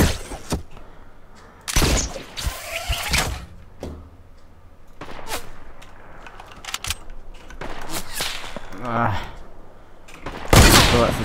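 Gunfire crackles in sharp, loud bursts during a Fortnite Creative sky-sniping match, with shots landing close by. The bursts are scattered between stretches of rustling game noise, and voices chatter over parts of it.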